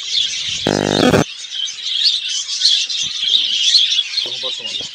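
Budgerigars at a bird farm chirp and twitter in a busy, high-pitched flock chorus that runs throughout, while a person's voice briefly rises over it near the start and a few fainter vocal sounds come near the end.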